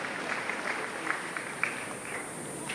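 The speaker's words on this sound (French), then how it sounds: "On l'applaudit très fort" Audience applause for a Lord of the Rings heroine contestant at a cosplay contest, a steady wash of clapping heard from some distance with a few sharper claps standing out, no voices.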